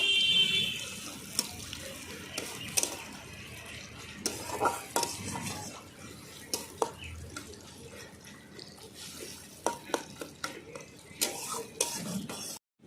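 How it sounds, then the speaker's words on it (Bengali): Chopped onion fries in a pan for a Bengali mrigal fish curry, under a faint sizzle, with frequent scraping and tapping of a spoon stirring it. "কুচিয়ে রাখা একটা পেঁয়াজ দিয়ে দিলাম পেঁয়াজটা ভালো করে আমি লাল করে নেব"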